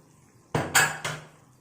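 Metal pressure cooker lid clanking as it is opened after cooking black chickpea kurma in a kitchen, three sharp close metallic knocks in quick succession with nothing else heard.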